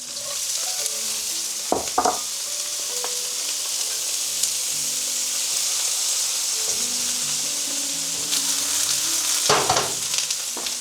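Steak stir-fries in a pan with garlic, a constant close sizzle with occasional scraping and clattering bursts as the pieces are stirred, with no speech.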